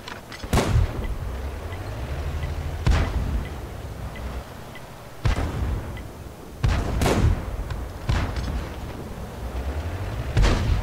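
Tank cannon shots in a tank video game, about six heavy booming blasts spaced a few seconds apart, loud and close over a low, steady engine rumble.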